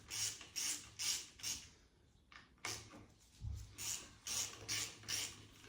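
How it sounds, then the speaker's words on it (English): A ratchet clicks in repeated bursts while undoing the nose bolts on a Type 9 gearbox from a Mk1 Ford Escort, a quiet rhythmic ratcheting with a short pause midway, close by and with no voices. "let's see what happens when we start unbolting"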